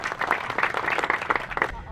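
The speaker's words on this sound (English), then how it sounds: "Ramon, let's give him a round of applause." Applause from an audience at the grand reopening ceremony of Chatsworth Park South: a dense, steady wash of many hands clapping at close range for about two seconds, which fades out at the end.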